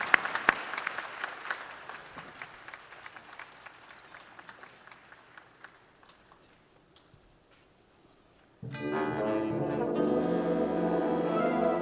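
A community show band audience claps in a burst of applause that thins out and fades over several seconds, then gives way to music starting loudly.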